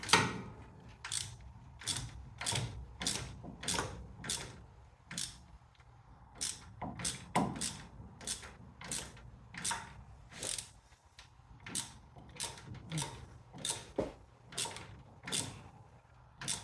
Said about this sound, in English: Tighten up the nut.